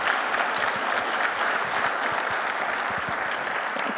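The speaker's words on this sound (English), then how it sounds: "I would just like to have one round of applause to acknowledge all of our sponsors" An audience at a startup demo day claps together in a sustained round of applause, a dense, even wash of many hands at steady loudness, with no voices over it.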